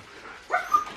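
A Siberian husky gives a single short, close bark with a whiny, yipping edge after a moment of near quiet, amid an excited indoor setting in a new house.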